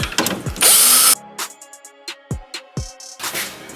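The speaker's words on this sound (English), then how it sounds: "there are 2 screws connecting the fuser unit to the machine. So you take out these screws." A power driver whirs briefly and then clicks and clatters as screws come out of a Canon photocopier fuser unit. Close, loud mechanical handling noises follow the burst.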